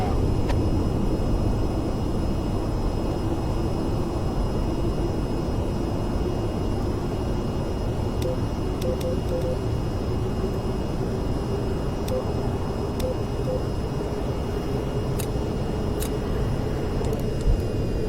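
Steady, loud jet engine roar from a fighter aircraft flying near a refueling tanker in the VR flight game VTOL VR, droning continuously throughout with faint radio chatter and beeps over it.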